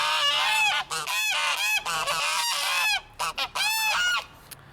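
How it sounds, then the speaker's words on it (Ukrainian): Geese honk loudly and close by near palm trees in Jericho, in repeated bursts of harsh, overlapping calls, with brief pauses between volleys and no talking. "це просто гуси"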